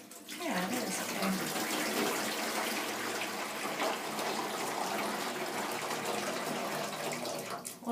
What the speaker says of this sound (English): pour some water into this here tub